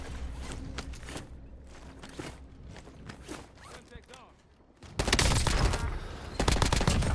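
Incoming gunfire in a video game crackles as scattered distant shots and footsteps at first, then loud close bursts of rapid fire suddenly take over for the last couple of seconds.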